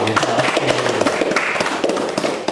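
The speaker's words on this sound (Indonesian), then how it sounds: "kita kasih aplaus buat" Audience applause at a live Indonesian television discussion event, a dense burst of clapping that stays loud and steady for a couple of seconds with no voices over it.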